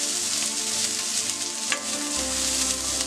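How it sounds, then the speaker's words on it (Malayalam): Chopped onions sizzle steadily in a hot pan while being stirred, a continuous close-up frying hiss with a brief scrape near the middle and a low hum that joins toward the end. "നന്നായിട്ടൊന്ന് മിക്സ് ചെയ്ത് കൊടുക്കാം."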